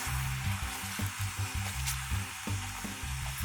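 Pork simmers in a soy sauce glaze, giving a steady, close bubbling sizzle with soft low thumps of bubbles popping in an uneven rhythm.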